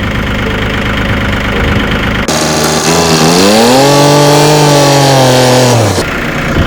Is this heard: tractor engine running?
yes